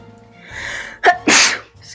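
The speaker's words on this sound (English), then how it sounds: "I just sneezed." A single loud, close human sneeze, a short sharp intake followed by an explosive burst, with a brief trailing sound after.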